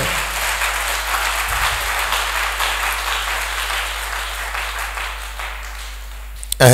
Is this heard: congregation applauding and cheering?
yes